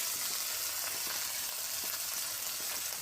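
Spice paste with ground cumin frying in oil for a Bengali fish curry, a steady, bright sizzle with faint stirring scrapes throughout.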